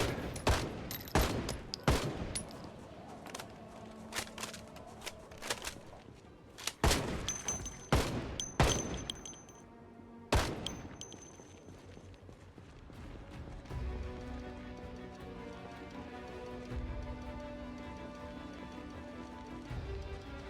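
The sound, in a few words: gunfire shooting at zombies in video game Project Zomboid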